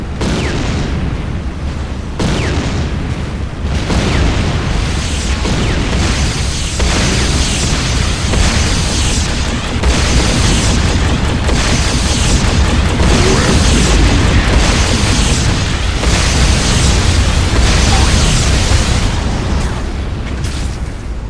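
Vehicle explosions in the video game Renegade, a loud, dense wall of booms and blasts rolling continuously with gunfire mixed in.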